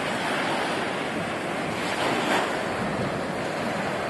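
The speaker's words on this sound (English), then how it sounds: "The sound you hear are the waves crashing on the" Surf breaking on a reef out past the shore, a continuous broad wash of water with one brief louder splash midway and wind buffeting the microphone throughout.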